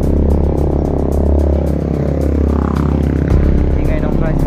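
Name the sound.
tricycle engine noise passing by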